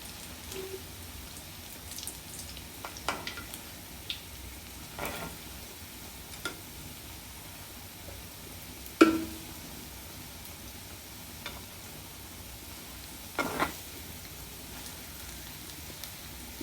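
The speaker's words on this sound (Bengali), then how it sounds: "এগুলো ভাজা হয়ে গেছে, আমি উঠাই নিচ্ছি এখন।" Chira poha pakoras deep frying in hot oil give a faint, steady sizzle, broken by a few soft clicks and bubbling pops.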